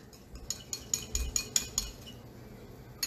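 A metal spoon stirring in a pot while cooking maple-glazed pork chops, a rhythmic series of about eight clinks and scrapes against the pot, close and fairly quiet, then a pause and one more clink.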